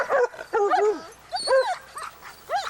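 A dog close by gives a series of high, whiny yips and short barks, irregular and excited, with brief gaps between bursts.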